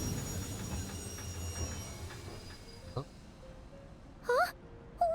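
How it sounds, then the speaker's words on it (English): A train ride in a video game set in a nation of snow and ice. A low rumble fades away, then a few sharp clicks and squealing tones ring out near the end. "We're on the train."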